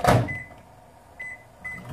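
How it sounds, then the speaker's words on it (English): A microwave oven holding two ounces of cream cheese shuts with a thud, then gives three short, clear electronic beeps spaced across the next two seconds. "I'm going to microwave it for about 45 seconds"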